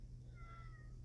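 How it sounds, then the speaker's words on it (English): A pet cat meows faintly from another room, a single drawn-out call behind a low steady background hum, no talking. "my cat is in the background"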